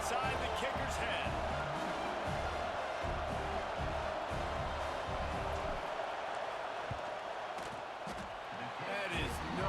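Stadium crowd roaring before a field goal attempt in an NCAA college football video game, Alabama at Texas A&M, a sustained, loud, distant-sounding roar with a commentator talking over it.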